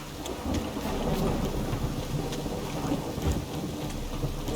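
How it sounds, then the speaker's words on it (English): Steady rain falls with a low rumble of thunder rolling underneath in the video game The Witcher 3: Wild Hunt, a continuous stormy wash with no voices. "It's raining again."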